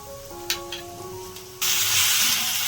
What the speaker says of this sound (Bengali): এবার আমি অ্যাড করে দিচ্ছি 2 চামচ মতো আদা রসুন পেস্ট।